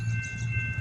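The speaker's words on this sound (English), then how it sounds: "And yet another train." A train passes in the dark, a steady low rumbling drone with a faint high whine on top, continuous for a brief moment with no talk.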